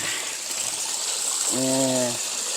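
Steady gushing water pours over rice being rinsed for khao hang, close and continuous, with a short voice briefly heard partway through.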